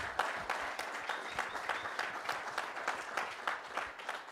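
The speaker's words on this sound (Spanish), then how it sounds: "Por favor, un Hacha aplauso para ellos." A small audience at an annual ethnology meeting claps for the museum team, a fairly quiet, distant patter of applause with individual claps audible throughout.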